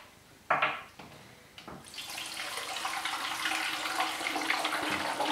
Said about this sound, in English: So now I need to fill the lower tank with the warm water.